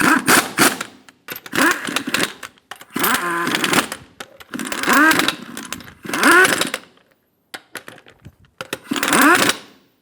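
A power tool snugs down lug nuts on a Ford Expedition wheel, firing in about six short, loud whirring bursts separated by brief silences, close by.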